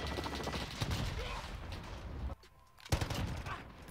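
Bursts of automatic gunfire from a Modern Warfare match, a rapid, dense rattle that stops briefly midway and then resumes close and loud.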